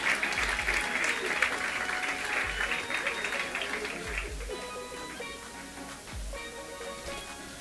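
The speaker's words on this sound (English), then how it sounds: "Ladies and gentlemen, a round of applause for all the awardees in the various rounds." An audience claps for awardees at a women's under-19 cricket awards and closing ceremony, a steady round of applause heard indoors at moderate distance, with low thumps beneath it.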